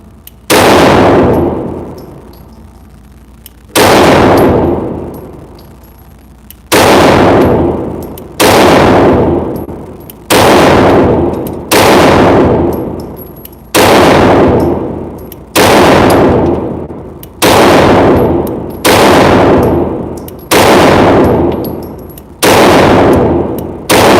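Loud gunshots crack at a shooting range, about ten sharp reports fired one after another at a steady, unhurried pace, each ringing out briefly before the next, with no voices between them.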